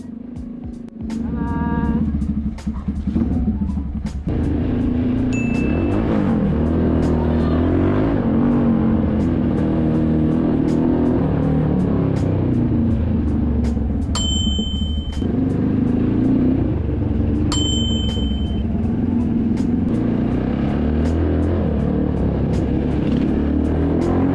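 A Motorstar Explorer 250 V2 motorcycle fitted with an SC Project slip-on exhaust idles and revs nearby, its engine rumbling steadily with repeated throttle blips rising and falling, plus a few brief higher tones over the drone.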